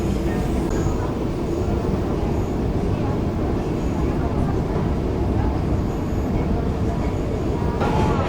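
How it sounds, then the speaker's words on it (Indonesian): Airport rail line heading to Minangkabau Airport, heard from inside a carriage: a steady, loud rumble of wheels and running noise that holds throughout, with no voices. "Kereta api bandara yang aku naiki akan belok ke kiri ke arah Bandara Minangkabau"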